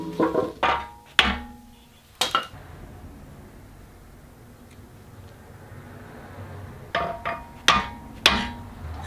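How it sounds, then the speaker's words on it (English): Light taps of a wooden hammer against the hollow-stemmed bow of a key gauge, a few sharp knocks in quick clusters at the start and end with a quiet pause between. "I'm just tapping it lightly with a wooden hammer"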